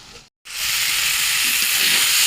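Spices sizzle and hiss loudly in a hot pan while being fried for a tuna fish curry, a steady close frying sound after a brief silent break at the start.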